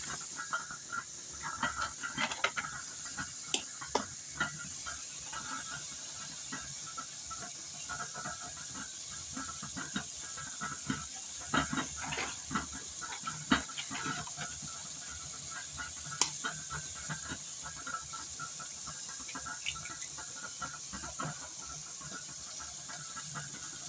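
Egg poured into sautéed mushrooms frying in oil sets off a faint, steady hiss of sizzling with occasional soft pops and crackles, heard alone and at a low level.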